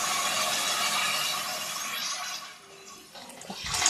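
Seven tumblers of water pour steadily into a cooking pot for sambar rice, a gushing, hissing rush that tapers off partway, followed by a brief clatter and a fresh splash near the end.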